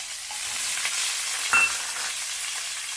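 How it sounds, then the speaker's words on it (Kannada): Onions going into hot oil with cumin and mustard seeds in a kadai, making a steady hiss of frying with a brief louder sputter around the middle, and no voices. "ಸ್ವಲ್ಪ ಎಣ್ಣೆ ಕಾದಿದೆ ಜೀರಿಗೆ ಸಾಸಿವೆ ಹಾಕ್ತಾ ಇದ್ದೀನಿ ಈಗ ಅದ್ರ ಜೊತೆ ಈರುಳ್ಳಿ ಹಾಕ್ಕೊತಾ ಇದ್ದೀನಿ"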